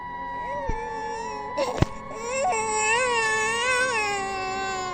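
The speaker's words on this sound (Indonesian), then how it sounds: "Itu adalah suara tangisan bayi." A baby wailing in long rising and falling cries as a sound effect in a horror story, close and loud, with a sharp knock in the middle.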